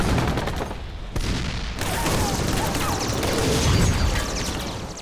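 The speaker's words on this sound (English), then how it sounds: "With tanks firing at point-blank range" A dense, loud barrage of tank gunfire at point-blank range in a battle between a US Sherman and a Japanese Ha-Go light tank, with overlapping blasts and clattering mechanical noise after a brief gap near the start.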